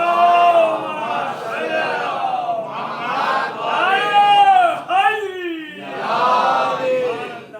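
A large mourning gathering at a Shia majlis roars out the slogan Nara-e-Haidari, loud massed voices rising and falling in several surging waves of shouting that fill the whole stretch, close and dense.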